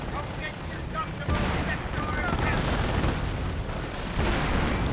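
Gunfire pounds a Hetzer tank destroyer in a multiplayer WWII strategy game, a dense, continuous barrage of shots and blasts layered with booming impacts, loud and sustained throughout.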